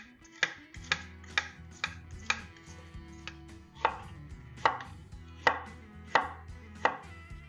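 A knife chops daikon radish into julienne strips on a cutting board, about a dozen sharp, evenly spaced knocks close up over a low background hum, no talking.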